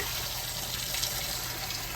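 Water runs steadily from a kitchen tap into a pot with eggs in it, a continuous even gush filling the vessel, close and unbroken.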